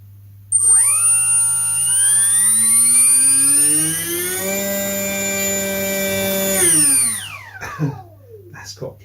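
Electric motor of a model Piper Cub J3 slow flyer spinning its propeller, whining up in pitch as it throttles up, holding a loud steady tone for several seconds, then winding down, alone and close.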